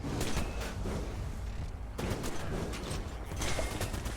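Gunfire in the online shooter game Morphies' Law: dense, rapid bursts of shots crackling almost continuously, loud and close, with no talking.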